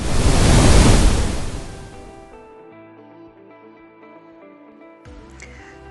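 Ocean waves roll in as a loud, broad wash of surf that fades within a couple of seconds, giving way to soft, sustained music in a children's read-aloud fairy tale about Tom Thumb landing in the sea.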